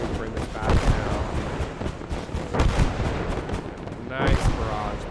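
An artillery barrage in Gates of Hell booms in repeated heavy blasts and rumbling detonations, loud and dense, with overlapping gunfire throughout and a fresh burst near the end.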